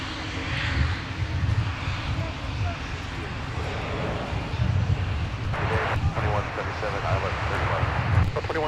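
An Aer Lingus airliner departs the north side runway at Minneapolis–St. Paul airport, its engines a broad distant roar with wind buffeting the microphone and a person talking over it.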